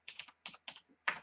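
Keystrokes on a computer keyboard while writing Java code: a few quick bursts of clicky taps with short pauses between, close and fairly quiet, no voices.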